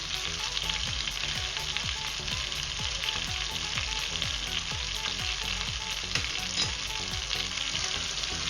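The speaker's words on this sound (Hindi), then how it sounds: "देखिए चिकन जो है वो अच्छे से भुन चुकी है मसालों के साथ" Chicken sizzles and fries with masala in a pot for a white chicken handi, a steady close crackling hiss with rhythmic stirring scrapes throughout and no talk.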